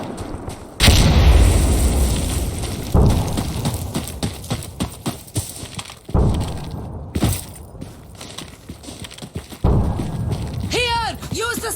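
Grenade blasts in the online shooter Insurgency Sandstorm: several heavy booming explosions burst out at intervals, each followed by rumbling decay, with gunfire and shouted voices in between.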